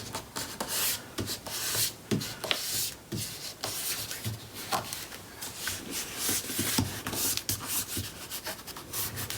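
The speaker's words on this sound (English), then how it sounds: "do some more burnishing. Make sure we've got good contact with all that adhesive." Paper being burnished onto adhesive for a mini album base, a soft repeated rubbing and scraping in uneven strokes, close and quiet, with no talking.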